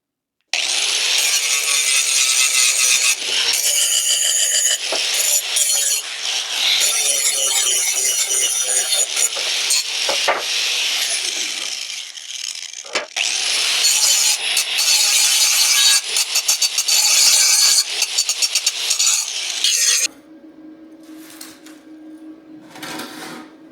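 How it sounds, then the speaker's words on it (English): A grinding wheel bevels the edges of metal pieces in a continuous, loud, close, harsh abrasive grinding with brief dips as the work shifts, then cuts off to a quieter hum near the end. "I've got my grinding wheel over here, and then I'm just going to go over the edges of all these and bevel them a little bit"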